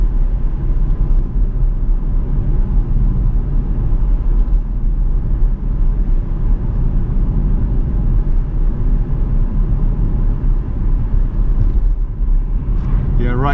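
Loud, continuous road and engine rumble from a Jaguar XF 5.0 V8 S on the move, picked up by a microphone on the bumper, with steady wind and tyre roar throughout and no clear talk.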